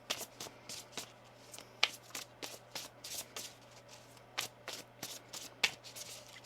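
Quiet, rhythmic riffling and slapping of tarot cards being shuffled by hand, a quick series of soft bursts with a few sharper snaps, no voices.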